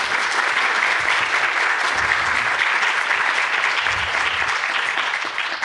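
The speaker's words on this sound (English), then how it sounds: "A round of applause for all of you." A conference audience at a women's workshop event applauds steadily and loudly, a dense wash of clapping that holds even for several seconds before easing slightly at the end.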